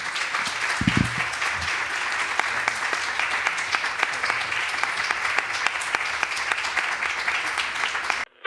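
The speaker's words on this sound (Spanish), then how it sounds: "os pido que los despidáis con un fuerte aplauso" An audience at a talk gives a sustained, even round of applause lasting about eight seconds, with dense clapping throughout and a few low knocks near the start.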